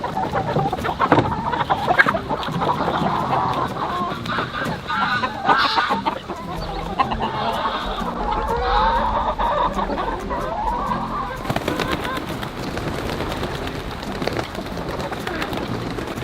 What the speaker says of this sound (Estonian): Lähme laseme nüüd kanade majast lahti